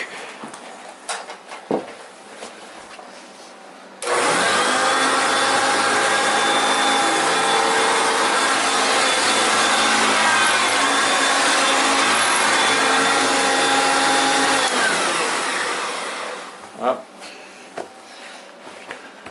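A Kirby self-propelled vacuum cleaner drives along under its own power, running loud and steady for about eleven seconds with a broad whooshing roar, then winding down. Quieter handling noises come before and after.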